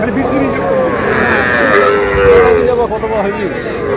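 Young bull calves moo at the crowded Aftabganj cattle market, several drawn-out, wavering calls overlapping loudly and close, with people talking throughout the background.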